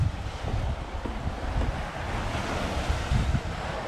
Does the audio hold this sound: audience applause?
no